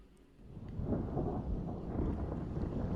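Thunder during a rainy FPV drone flight, a low rumble that builds and rolls on under wind noise.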